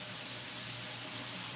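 Water runs steadily from a tap during hair washing, a loud, constant broadband hiss and splash with no pauses and no talking.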